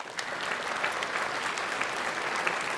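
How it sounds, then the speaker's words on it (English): An audience claps steadily, a dense, even wash of applause from a sizable crowd that holds at a constant level throughout. "Let's give him a round of applause"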